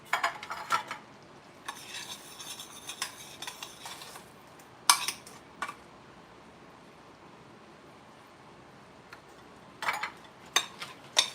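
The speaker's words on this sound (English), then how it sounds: "I'm going to put this mixture into the" Pineapple upside-down cupcake batter being spooned into cupcake pans, soft scrapes and intermittent clinks of a spoon against metal tins, sparse and close, with quiet gaps between dabs and no talking.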